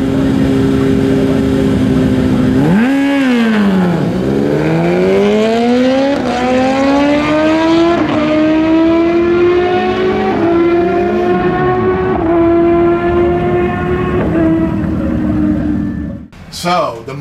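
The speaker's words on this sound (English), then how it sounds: "the mighty ZX-10 managed to get past the electric bike" A Kawasaki ZX-10R and an electric Energica EGO RS drag racing at a drag strip, with an engine note climbing steadily through repeated gear shifts as the bike accelerates away, loud and sustained before a brief drop at the end.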